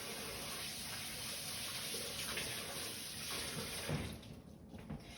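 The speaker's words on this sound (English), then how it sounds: "let me wash my hands" Hands being washed under a running kitchen tap, a steady close rush of water hitting the sink that thins out near the end as the flow is disturbed, with no voices.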